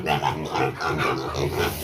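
Pigs grunt and snort in quick, rhythmic bursts, close and fairly loud, several short oinks in a row.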